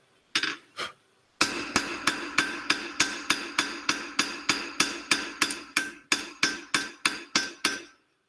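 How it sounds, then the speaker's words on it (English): Steady, evenly spaced hammer blows ring out on hot steel while a blacksmith forges a set eye hook, two opening strikes then about twenty loud, close metallic hits in quick rhythm, no voices. "we've got to change our hammer blows"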